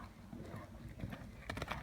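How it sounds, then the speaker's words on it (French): A horse trotting in a dressage session worked in German reins, hooves striking the arena footing in a quick, faint rhythmic series of soft thuds at moderate distance. "On repasse au petit trot."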